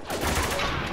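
A brief, loud burst of rapid gunshots in the shooter game Spec Ops: The Line, close and sustained across the whole second.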